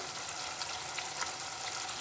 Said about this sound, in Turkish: sosum güzelce kaynıyor